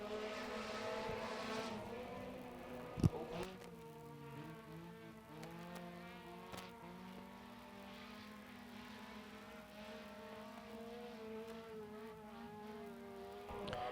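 Race cars circle a local speedway oval during qualifying, a faint, distant engine drone with rising and falling pitch as cars pass, one brief sharp bang early on, no talk.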